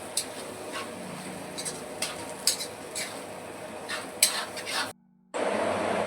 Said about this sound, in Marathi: हे बघा मित्रांनो आपण वांगी टाकून दिली, चांगलं आता परतून घ्यायचं आहे आपल्याला.